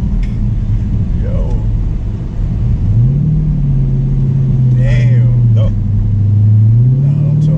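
Close, loud V8 rumble of a Dodge Scat Pack inside the cabin as it accelerates, engine pitch climbing and holding steady under the throttle while people talk over it.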